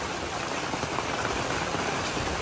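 Hail pounds down outdoors beside a lake still covered in ice, a dense, steady hiss of countless stones striking surfaces, loud and continuous with no voices.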